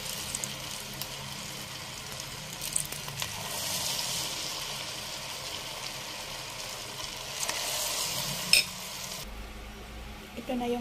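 Pork giniling meatballs fry in hot oil with a steady, moderate sizzle, occasional stirring scrapes and a brief clatter near the end; no voices.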